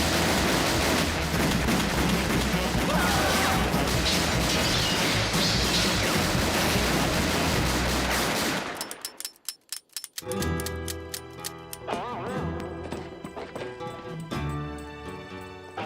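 Cartoon gunfire as the Daltons shoot wildly in a Lucky Luke animation: a dense, loud barrage of shots and crashes for about nine seconds, then a sudden drop to quieter scattered impacts and music-like tones.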